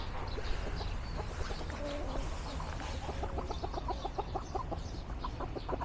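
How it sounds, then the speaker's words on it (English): Chickens and roosters cluck in a busy, rhythmic chatter of short repeated calls, moderately distant over a steady outdoor background. "Oh yeah, we got some chickens, baby."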